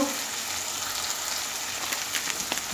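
Spices frying in hot oil while sautéing a foli fish curry with green banana, with ground coriander and cumin in the pan; a steady, close crackling sizzle with small pops throughout.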